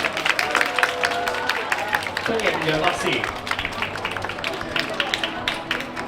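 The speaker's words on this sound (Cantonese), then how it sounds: "熱烈掌聲有請，掌聲再大聲啲" Crowd applause and scattered clapping at the premiere of the film Like a Love Like This, dense and lively under an announcer's amplified voice welcoming a guest.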